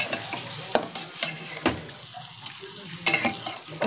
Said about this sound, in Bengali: এইভাবে একদম হালকা আঁচে কষবেন। সামান্য একটু জল দিয়ে কষতে পারেন, যাতে তলায় ধরে না যায়